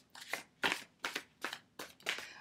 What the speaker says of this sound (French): Après, je vais prendre mes cartes de fin de tirage.